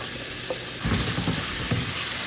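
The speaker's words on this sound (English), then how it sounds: "I'm gonna add some chopped onion" Chopped onion hits hot oil already holding cumin seeds and a pinch of asafoetida, bursting into a loud, steady sizzle after a quieter crackle, with a few stirring scrapes in the pan.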